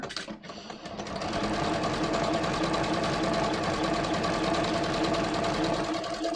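A sewing machine runs steadily, stitching a bold line over sparkly strip fabric, its fast mechanical whir holding loud and even after a brief pause and start.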